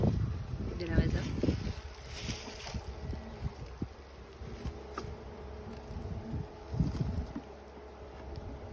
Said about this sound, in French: Ça c'est un essaim qu'on a fait assez tôt dans la saison.